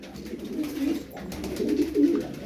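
Pigeons cooing softly in a loft among a group of featherless-footed (paçasız) breed birds, several low repeated coos overlapping at close range, no talk.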